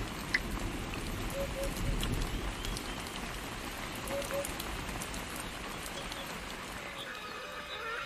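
Rain falls steadily in the wild during a drought, with crocodiles nearby, giving a dense, even patter across the whole stretch under faint scattered background sounds.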